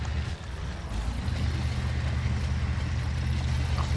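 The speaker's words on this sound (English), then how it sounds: "Listen to the sound of our engine." A struggling truck engine in the Spin Tires video game drones and idles with a low, uneven rumble on a paved road, steady and fairly loud throughout without speech.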